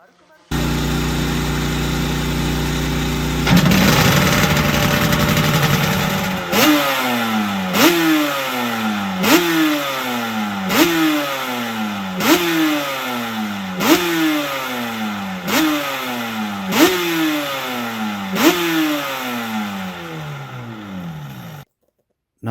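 Honda NSR 500 two-stroke racing motorcycle engine held at a high buzzing rev, then blipped through about ten rapid rising-and-falling revs, loud and close, with a voice heard briefly.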